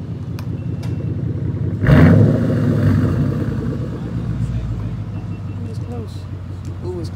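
A 5.0 Mustang GT engine with a resonator delete revs up sharply, roars loudly for a moment, then settles into a rough, rumbling idle. Voices are audible throughout.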